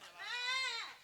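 A voice imitates a cow or goat bleating in a single wavering call of about a second, loud and close with a bright harmonic tone that slides down at the end.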